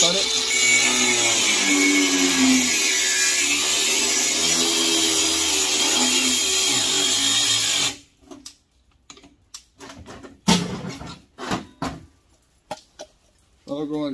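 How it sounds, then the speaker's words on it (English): Aluminum from a scrapped furnace is cut with a loud, continuous grinding and sawing noise for about eight seconds, close by, followed by scattered clanks and handling knocks as the metal is moved. "All I do is just cut it."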